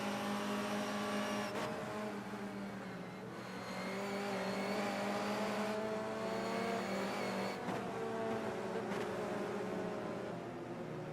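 A race car engine in a BTCC sim racing game drones steadily at high revs, with brief dips and pitch shifts at gear changes and a faint background of other cars.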